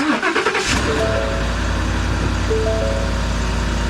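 A 2017 Porsche 911's engine cranks briefly via push-button start and catches, roaring up loudly before settling into a steady, deep idle nearby; the car has no exhaust fitted.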